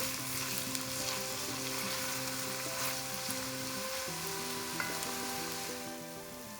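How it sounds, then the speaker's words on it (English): Finely chopped onions sizzle steadily in a curry pot, a dense, constant frying hiss close by, with a low tonal hum running underneath and occasional stirring scrapes, no voices. "Stirring the onions, you can cook this for 5 to 7 minutes until it becomes golden brown"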